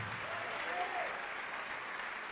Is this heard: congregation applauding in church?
yes